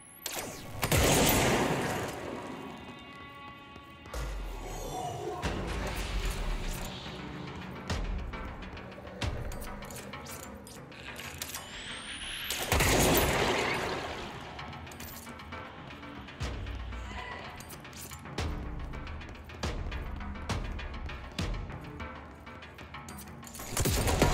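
Bursts of gunfire from the video game Control ring out in a fast, dense fusillade, with loud clusters of rapid shots breaking through sustained rattling and clinking game effects and occasional metallic impacts.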